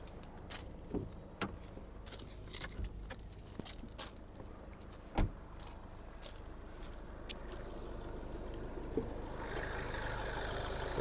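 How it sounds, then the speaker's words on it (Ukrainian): A Skoda Octavia A7 engine idles quietly under light clicks and rustles, a steady low hum that swells into broader noise near the end. "двигунчик працює все гарно, демпфера не чути, все чітко"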